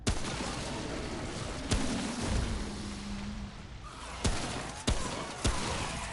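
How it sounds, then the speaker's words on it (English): A hunting pistol firing in the video game Remnant: From the Ashes, five or so sharp single shots spaced irregularly over a low, rumbling game ambience, fairly faint overall. "I just missed so many shots"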